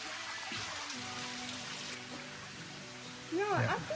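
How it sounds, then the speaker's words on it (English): Water pours down a massive cliff face waterfall in the Springbrook hinterland, a constant distant rush with brief sounds from people nearby toward the end. "Another massive cliff face waterfall."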